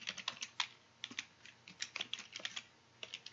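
Quick bursts of typing on a computer keyboard, close and soft, irregular clusters of light key clicks with short pauses between, no talk.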